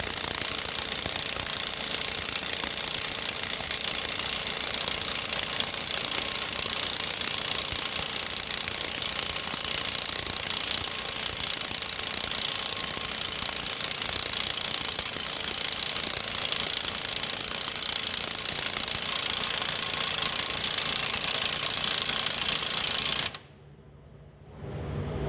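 Loud, continuous hammering rattle of a Capri or Astro flex head air impact wrench installing a balancer, running steadily for over twenty seconds before stopping abruptly.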